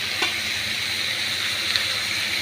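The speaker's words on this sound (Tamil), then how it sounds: "கருவேப்பிலை, கொத்தமல்லி போட்டுட்டு அது கொஞ்சம் நேரம் வதங்கணும்" Curry leaves and coriander sauté in a pan for a chutney, giving a steady close sizzle and frying hiss with a couple of faint stirring scrapes.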